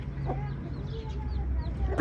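A hen clucks softly and repeatedly while feeding grain to her chicks, with faint high chick peeps above, ending in a sudden louder knock.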